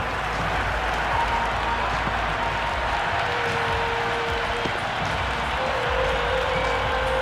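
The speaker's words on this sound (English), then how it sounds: "The crowd are really getting quite raucous." A stadium crowd in the Cricket 26 video game, during a Gujarat Titans vs Punjab Kings match, keeps up a continuous, dense roar of cheering and applause that stays steady and even throughout.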